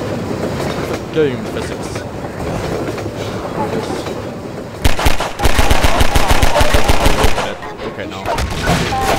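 A train rumbles past in the video game Half-Life 2, loud and close with a rapid rhythmic clatter of wheels over track that swells in the second half, while a person talks over it.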